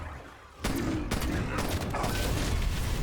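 An enemy cannon fires in Black Ops Cold War Zombies, a sudden loud blast that opens into a sustained, dense barrage of booming gunfire with several sharp reports layered through it.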